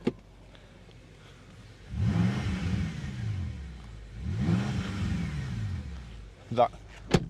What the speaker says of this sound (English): That's the BMW key there, foot on the brake and start